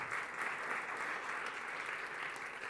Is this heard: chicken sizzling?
no